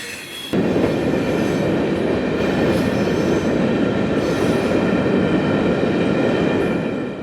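CSX freight train 0721 rolls southbound on the Homestead Sub near Miami, led by two Miami Terminal Jeep locomotives running long-hood forward and hauling Herzog gondolas, a loud steady rumble of wheels and cars starting abruptly and continuing close by, with faint squeal.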